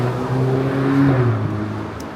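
A car drives along a New York City street, its engine a loud, close, steady hum that swells slightly and shifts pitch as it passes.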